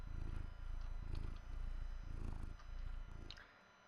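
A cat purrs in the Dwarf Fortress video game, a close, low rhythmic rumble pulsing about twice per second for several cycles before trailing off, with no voices.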